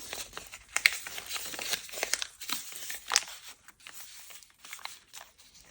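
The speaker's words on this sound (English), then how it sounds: "Tear it across there." Paper scraps torn by hand for a junk journal, a run of close, dry ripping and crinkling strokes in irregular bursts, with soft rustles between tears and no talk.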